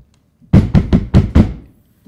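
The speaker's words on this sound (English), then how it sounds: "I knock on the door really loudly." Five loud, evenly spaced raps on a door, sharp and close, in a quick steady rhythm with no talk.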